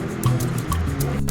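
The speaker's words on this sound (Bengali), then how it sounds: "মশলা কষানোর জন্য অল্প একটু পানি দিয়ে দিলাম" A little water is poured into a pan of dried kachki fish and spices frying in oil, giving a brief close bubbling, dripping splash over a low steady sizzle, with no talk.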